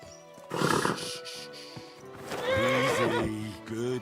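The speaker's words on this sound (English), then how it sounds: "Easy, good horse." A horse in the medieval video game Kingdom Come: Deliverance II gives a long, wavering whinny while its hooves clop on the ground. The whinny is close and clear, and a few sharp snorts and thumps come before it.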